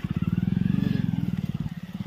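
A motorcycle engine idles close by, a fast, even chugging pulse that stays loud and steady throughout, with no voices over it.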